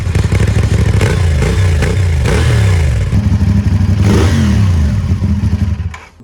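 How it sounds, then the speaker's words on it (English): A CFMOTO 450NK naked motorcycle with a twin-cylinder 270-degree crank engine revs hard and loud close by, its throttle blipping up and down in repeated surges, then cutting off sharply near the end. "I think this is the best sounding engine, obviously because it's a twin cylinder and a 270-degree crank"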